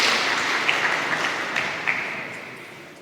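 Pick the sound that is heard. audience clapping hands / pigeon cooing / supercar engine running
audience clapping hands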